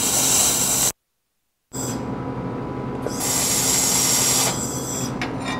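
Stainless steel pieces tack-welded with a Zumaq laser welder produce a loud, steady hissing buzz that breaks off for a moment into silence, then resumes with a few shifts in intensity.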